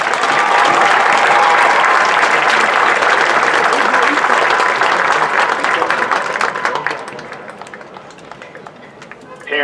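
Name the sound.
audience applause at high school graduation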